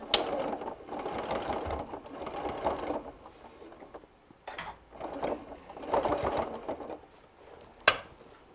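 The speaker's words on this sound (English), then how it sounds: "taking a couple stitches, folding it back" A sewing machine stitching fabric and mesh for a hanging travel laundry bag, running in short bursts of rapid whirring with pauses between, close and clear, ending in a sharp click.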